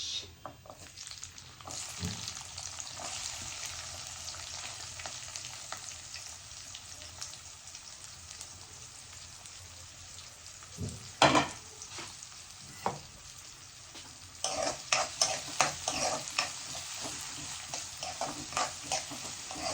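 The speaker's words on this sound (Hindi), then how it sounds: "प्याज को हल्का ही ब्राउन करना है" Onions frying in hot oil with cumin seeds, a long, fairly quiet continuous sizzle with scattered spatula knocks and scrapes, growing busier and louder toward the end.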